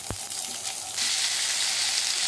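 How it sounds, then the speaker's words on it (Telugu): Mustard seeds, urad dal, cumin and chana dal sizzle in hot oil, then curry leaves drop in with a sharp tap and the frying surges into a louder, dense crackling hiss. "పోపు వేగింది, ఇప్పుడు కొంచెం కరివేపాకు వేసేసుకోవాలి."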